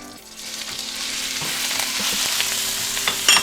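Marinated pork sizzles and fries steadily in a hot pan, a continuous close crackle with occasional stirring scrapes and no talk.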